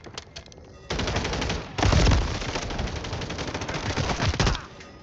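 Rapid automatic gunfire in a multiplayer shooter video game rattles loud and close in sustained bursts that run for several seconds, with heavier blasts mixed into the stream of shots.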